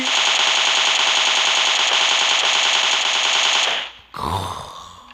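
A Beryl assault rifle in PUBG Mobile fires one long, loud, unbroken automatic burst for about four seconds, then stops, followed by a short mechanical clatter.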